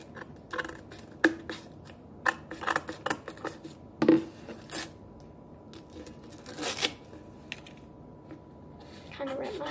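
Scissors snip and scrape at a homemade toy garbage can or hamper so a lid will fit, giving irregular quiet clicks and rustles with a few louder cuts, close by.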